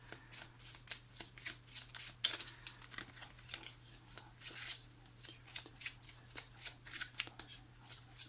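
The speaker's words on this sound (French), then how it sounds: "je remélange pour ne pas voir où sont les cartes de la coupe" A tarot deck is shuffled by hand with quick, papery riffles and slaps in a steady repeating rhythm, close and fairly quiet, with no talking.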